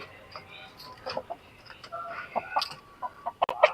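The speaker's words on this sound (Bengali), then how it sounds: "এই যে একদম দেশি মুরগি এগুলো" Native desi chickens kept in a backyard coop cluck in a scattered series of short calls, soft at first and louder toward the end, with no talking.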